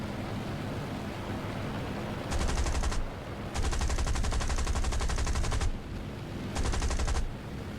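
Spitfire IIB machine guns firing in the War Thunder combat flight game: three long rapid bursts of dense gunfire, the middle one longest, over a constant loud engine drone.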